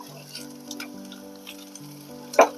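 Food frying in a pan over a gas flame, a soft sizzle with a few stirring scrapes and a louder clatter near the end, over a steady low hum.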